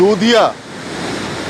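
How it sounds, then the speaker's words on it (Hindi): The Purwa waterfall, where the Tamas river plunges down, roars as a steady broadband rush behind someone speaking briefly over it at the start. "ये जो पूर्वा फाल है, ये तमस नदी यहाँ पे गिरती है।"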